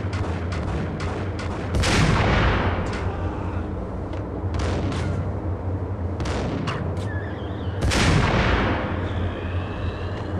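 Heavy, booming sniper rifle shots in the Max Payne game, several separate loud blasts spaced a few seconds apart, each trailing off in a short echo over a steady background hum.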